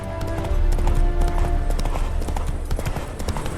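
Horse hooves clip-clopping in the video game The Witcher 3, a steady, close, rhythmic trot on hard ground over a continuous background, with no talk.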